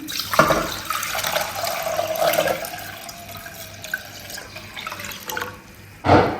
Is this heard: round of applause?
no